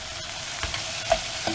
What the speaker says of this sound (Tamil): இது நல்லா இப்போ இது வதக்கணும்.